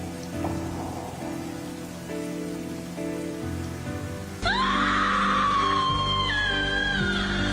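Cold rain falls in a steady, even hiss over a dramatic animated scene, with horse-like cries and a swelling tonal score entering in the second half.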